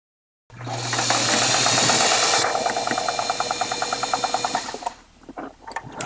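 A sewing machine sews dropcloth apron panels with a loud, close rattling run that settles into a rapid, even stitch-by-stitch chatter before stopping, followed by soft handling noises.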